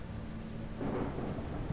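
A deep thunder rumble rolls in over steady rainfall in the dinosaur survival game The Isle Evrima, the rain hissing alone at first before the low boom swells and lingers to the end.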